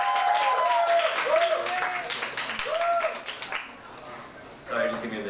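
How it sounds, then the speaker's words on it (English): A crowd claps steadily, with voices and a few whoops rising over the applause before it thins out and briefly swells again near the end. "please give a round of applause for Hubert"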